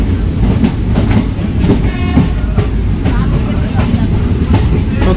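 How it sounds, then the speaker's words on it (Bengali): 13466 Intercity Express train pulling into Dhuliyan Ganga station, with a loud, steady rumble and close rhythmic clatter of wheels over rail joints throughout. "ধুলিয়ানা গঙ্গা স্টেশনে ঢুকছে এখন আমাদের ট্রেন"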